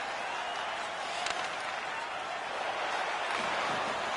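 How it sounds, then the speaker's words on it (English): Steady crowd noise fills a hockey arena in the NHL 23 video game, a dense even roar with faint clapping, running under the game's sound throughout. "You can feel the energy in this crowd."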